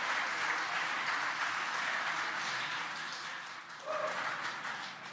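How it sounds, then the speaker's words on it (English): Crowd applause after the landing of the SpaceX Crew-4 booster, a steady, fairly distant wash of clapping that holds for several seconds and dips briefly near the end. "You can hear the applause behind us."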